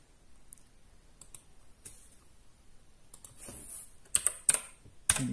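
Typing on a Gametech Black Rider gaming keyboard with blue switches, quiet scattered key clicks at first, then a denser burst of loud, sharp clacks near the end, with no voices.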